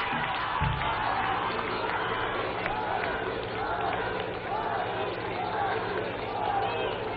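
A large gathering of women gives the Indian Prime Minister loud, sustained applause and cheering at an event celebrating the Women's Reservation Bill, forming a dense, even roar of crowd noise.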